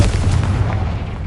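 A Confringo fire spell blasts in the Hogwarts Legacy video game, a loud, dense booming burst with heavy low rumble that fills the moment and slowly tails off, with no talking.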